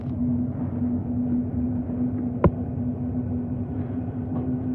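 Freight train passing near an outdoor lawn bowls game, a steady low rumble with a faint hum running throughout and one brief sharp clank midway, moderately quiet.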